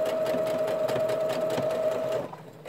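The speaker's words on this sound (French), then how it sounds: "je vous laisse le bruit de la machine et tout, parce que voilà, il n'y a pas beaucoup de coutures" A sewing machine stitches seams on an origami-style fabric pouch, running steadily and close up, with a constant motor hum and rapid needle rhythm before it stops abruptly near the end.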